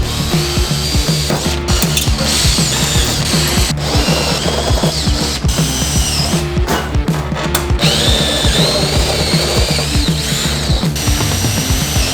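A power tool drives bolts holding a GT350 wing on a Mustang GT: loud, continuous mechanical whirring and rapid ratcheting clicks close by, with brief pauses and bursts throughout.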